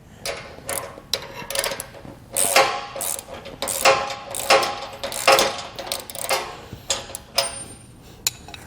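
A bolt is tightened on a Malone EcoLight Sport trailer, with a run of close, uneven ratcheting clicks and metallic ticks in bursts.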